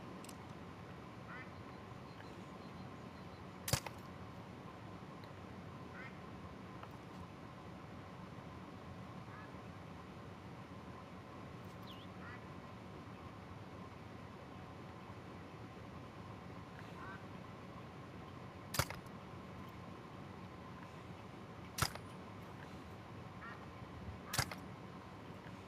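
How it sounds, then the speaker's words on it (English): Ducks quack in the hunting game theHunter Call of the Wild over a steady outdoor ambience, calls faint and scattered, with a few sharp loud bangs standing out. "I hear a lot of ducks, but I can't see them."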